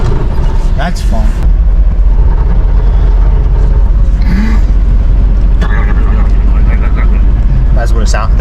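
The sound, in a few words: truck engine running while driving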